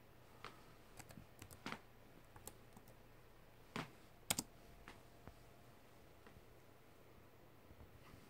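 Keys tapped on a computer keyboard while typing into Notepad during a Moto G6 bootloader unlock, a few scattered quiet clicks and short bursts over low background hiss.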